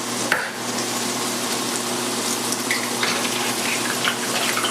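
Steady crackling sizzle of an egg frying in a hot pan, close and continuous with a brief sharp pop near the start; no one speaks.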